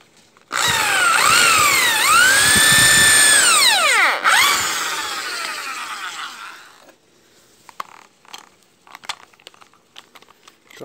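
Power drill boring into wood while making wooden flowers, a loud steady whine that rises and falls in pitch over about six seconds, then fades into faint scattered clicks and taps.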